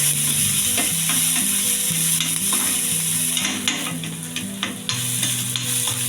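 Green chillies and curry leaves sauté in hot oil in a pan for kara vadai, a steady loud sizzle with scraping stirs running under it throughout.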